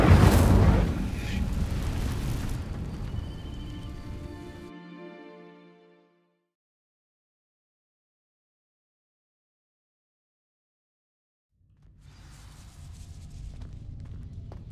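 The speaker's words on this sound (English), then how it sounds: "These dry vines are one spark away from becoming kindled. Incendio!" A fiery Incendio spell in Hogwarts Legacy ignites dry vines with a loud whooshing burst and crackling roar that fades over several seconds into silence, before ambient rumbling returns.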